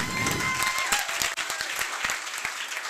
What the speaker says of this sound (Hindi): एक बार खुद के लिए तालियां हो जाए।